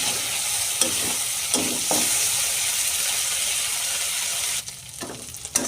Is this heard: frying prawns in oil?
yes